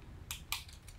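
A friction erasable pen clicked on its side, two or three small crisp plastic clicks close up in a quiet room.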